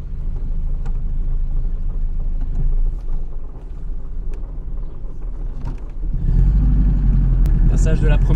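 Vintage Citroën Traction 11 BL driving, a low steady engine rumble from inside the car that swells louder toward the end as it pulls away.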